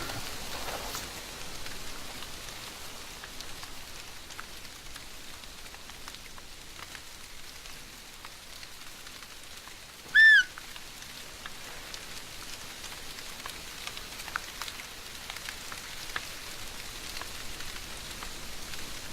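Rain falls steadily in an outdoor wilderness game scene, a faint even hiss with scattered drop ticks and one brief chirp-like tone in the middle.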